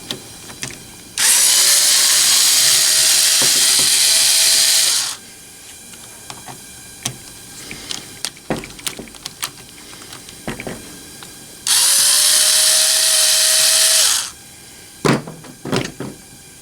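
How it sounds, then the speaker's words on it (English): Power driver whirring on the handle screws of a Poulan 42cc chainsaw during teardown, two loud sustained bursts of several seconds each, separated by clinks and taps of handling nearby. "let's go ahead and remove these two handle screws"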